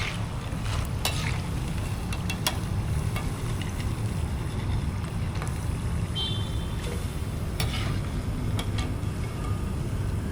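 Continuous crackling and bubbling of ring-shaped murukku dough frying in hot oil, a dense steady sizzle with occasional sharper pops, close by.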